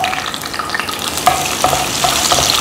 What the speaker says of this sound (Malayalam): ആദ്യം കൊച്ചുള്ളിയും കുറച്ച് കറിവേപ്പിലയും കൂടി ചേർക്കാം